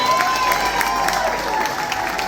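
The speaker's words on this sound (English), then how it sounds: "Give him a round of applause." Dense audience applause fills a club farewell event for the Conga Room, steady and loud across the whole stretch with a few scattered cheers inside the crowd noise.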